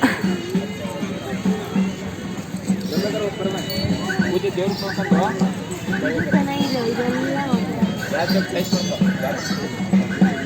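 Horses offering paid rides at Yediyur, with neighing and whinnying heard among a busy outdoor crowd, while people talk continuously over the animal sounds.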